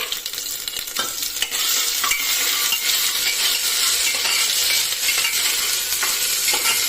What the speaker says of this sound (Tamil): எண்ணெய் சூடானதும் வெங்காயம், இஞ்சி, பூண்டு எல்லாமே சேர்த்து